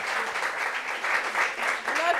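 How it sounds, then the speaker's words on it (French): Studio audience clapping on a French celebrity talk show, a short steady patter of applause at moderate level with voices blended into it. "Applaudissements pour son parfum"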